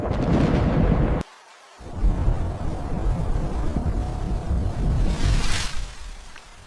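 Deep thunder rumbles steadily from an approaching storm over a rainforest tree-house camp, a broad continuous roar mixed with wind noise and briefly cut off by a short gap.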